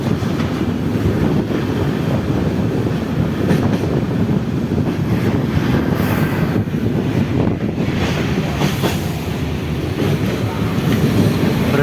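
A train halted at a station for loading near Jalpaiguri gives a steady loud rumbling wash of rail and wind noise throughout, with no distinct voices.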